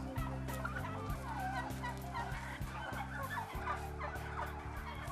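Turkeys gobbling repeatedly and loudly during neck vaccination, several birds calling in overlapping bursts over a steady low mechanical hum in a poultry house.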